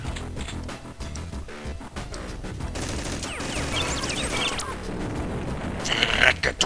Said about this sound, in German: Maschinengewehr.